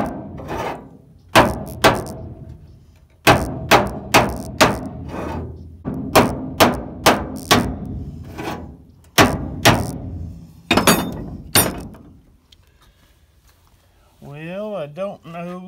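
Hammer striking sheet metal against a dolly while straightening a panel, a long series of sharp, close metallic blows in uneven bursts, followed by a brief quiet stretch and a short tonal sweep at the end.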